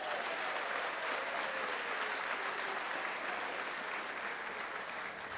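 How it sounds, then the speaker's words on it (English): Sustained, dense applause from a parliamentary audience greeting a South African budget announcement on tax and transfer duty, loud and steady throughout with no talk over it. "What you hear there is a lot of applause"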